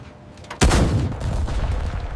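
Gunfire sound effect from a World War II war documentary: a sudden loud blast followed by a dense, sustained rumble of shots and echoing fire that carries on to the end, with no voices.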